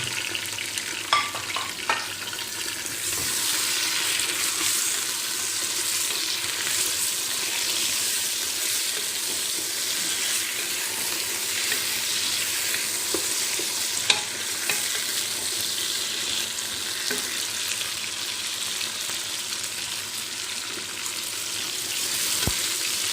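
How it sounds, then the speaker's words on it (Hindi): Roughly half a kilo of meat sizzles and fries in hot oil in a pot while being stirred for degi aloo gosht, with a loud, steady crackle and intermittent scraping of the spoon throughout, no talking. "ये देखें, मैं गोश्त डालने लगी हूँ।"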